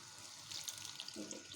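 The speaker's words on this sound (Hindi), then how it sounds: "और थोड़ा सा इसमें पानी ऐड कर देते हैं।" Water poured into a karahi cooking pot while making Karachi karahi, a faint soft splashing trickle that builds toward the end.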